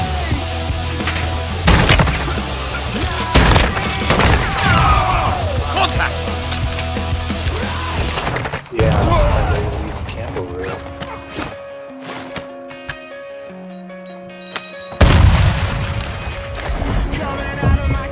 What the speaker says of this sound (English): Planting mine! Grenade!